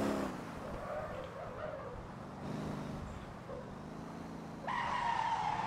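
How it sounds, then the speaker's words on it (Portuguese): Car tires squealing and skidding on a race track in the driving game Motor Town, a steady sustained screech with engine noise that swells louder near the end. "eu tô queimando pneu"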